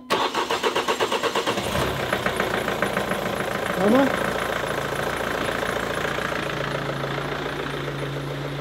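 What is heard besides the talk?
car engine starting and idling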